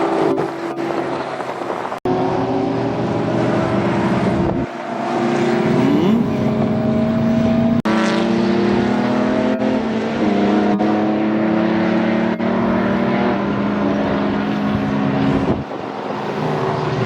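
A small modified car with a stripped monocoque body, its engine running loud and close, revving repeatedly through rising and falling pitches in a continuous roar with brief gear-change dips, no talking.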